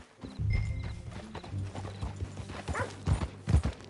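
Horse hooves clip-clop in Red Dead Redemption 2 as a horse is ridden, a steady uneven trot of close, fairly loud hoofbeats with low rumbling underneath and a few sharper thuds near the end.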